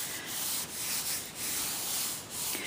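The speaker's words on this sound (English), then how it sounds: "So I'm just going to give this a nice rub." A hand rubs across a fireworks painting in a pan with light pressure, making close, soft, rhythmic scraping strokes with no talking.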